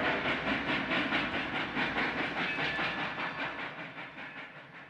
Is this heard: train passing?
yes